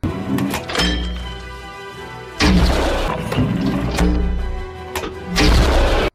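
German mortar fire in a war film about a Russian squad defending a building, several heavy booming thuds that land in sequence against a rumbling low backdrop, with no talk.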